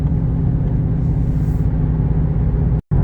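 A Ford GT500 carries a steady low exhaust rumble heard from inside while cruising on the road, continuous and fairly loud with a brief dropout near the end.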